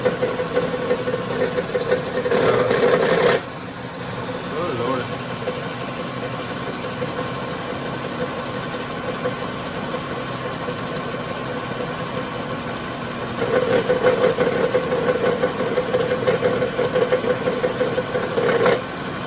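The engine of a 2014 Chrysler Town and Country idles with a steady hum, with a louder, harsher noise swelling in at the start and again near the end when the AC compressor kicks on.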